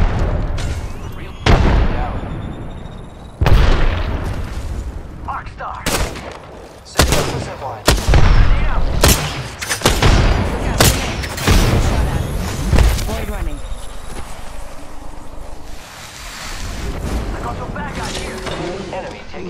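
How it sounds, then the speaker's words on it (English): Apex Legends battle: loud, close bursts of gunfire and booming explosions come in dense irregular clusters, then thin out toward the end, with a voice talking throughout. "The enemies are shooting at me."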